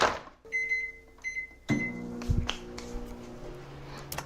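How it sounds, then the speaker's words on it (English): Microwave oven running with clay in a brown paper bag inside, with a steady hum, tonal beeps near the start and clunks as the door or bag is handled. "just putting it in the microwave for a few minutes"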